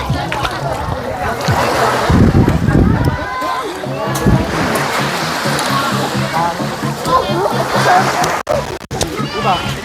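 Sea waves wash and crash onto the beach at Calatagan, Batangas, a close and loud continuous surge of water, with people talking over it throughout.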